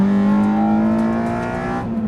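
A loud Honda engine fitted with a large induction kit drones steadily at high revs, its throaty harmonic tone holding nearly level and easing slightly toward the end, with no voices.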